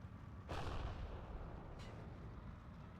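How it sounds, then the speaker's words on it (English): An anti-tank gun fires at an M4A1 tank in the Steel Division 2 war game: one muffled, distant boom followed by a fainter second report about a second later, over low rumbling background. "here comes the M4A1, which is going to come into the anti-tank gun line of sight, which is going to fire about now"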